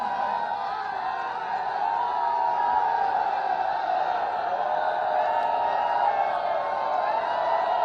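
A large crowd at a public rally in Amethi cheering and applauding to welcome the chief minister, a steady continuous roar of voices and claps at moderate distance.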